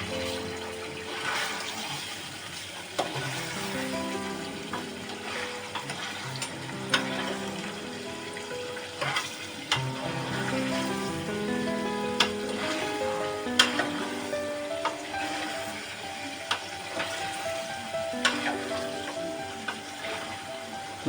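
Khago fish curry fries in a pan while being stirred. A continuous bubbling sizzle is broken by repeated scraping and knocking of the spoon against the pan, close and steady, with no talking.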